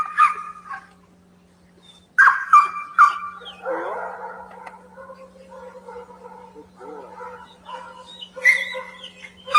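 Training-session distraction dogs tied to posts bark, yip and whine in short irregular bursts at fairly close range, alternating with quieter stretches, with a faint steady hum underneath.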